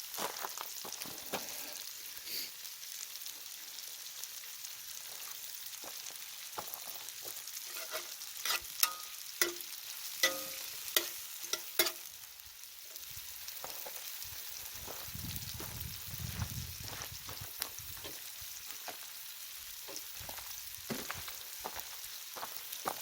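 Kangaroo meat frying in a pan over a campfire, a steady crackling sizzle with scattered sharp pops and spits throughout, fairly close and moderately loud, with no talking.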